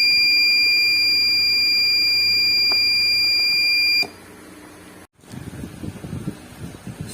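Buzzer of a light-activated automatic morning alarm circuit sounding as a steady, loud electronic tone for about four seconds, then cutting off abruptly, followed by a brief silence and low rustling handling noise.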